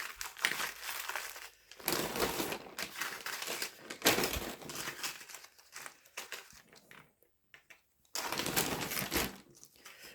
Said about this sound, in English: sorry if it's crinkling loud